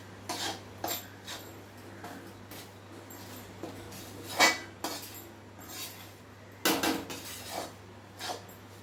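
Spoon scraping and clinking in a pan while stirring a gond laddu mixture of flour and desiccated coconut over medium flame, steady close scraping with several louder knocks.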